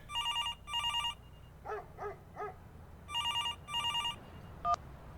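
A telephone rings in two pairs of electronic trills, with three quick yelps like a dog in between and a short beep near the end, heard clearly over a quiet background hiss before a voicemail picks up.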